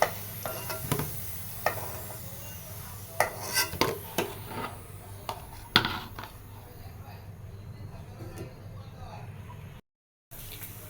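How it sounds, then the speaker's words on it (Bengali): Dried chillies, cumin and bay leaf fry in hot oil with a steady sizzle, broken by sharp utensil clinks against the pan and a voice talking. "আমি তেলের ভিতরে শুকনো মরিচ তারপরে জিরে তেজপাতা দিচ্ছি"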